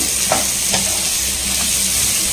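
Curry leaves frying in hot oil in a pan, a loud dense sizzle held steady close up, with a couple of soft stirring scrapes early on and no voices.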